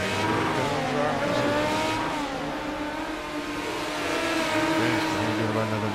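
Midget race cars lap Lincoln Speedway in a warm-up session, engines droning and revving steadily at close range with rising and falling pitch, a continuous loud roar throughout.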